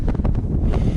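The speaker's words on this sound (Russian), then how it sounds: "И ветер поднялся." A gust of wind rumbles hard against the microphone out on a frozen lake during late-season ice fishing. The burst is short, loud and close.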